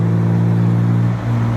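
A car engine fitted with an aftermarket pedal tuner, idling and revving in a steady, loud, close hum with a brief dip near the end; no one speaks.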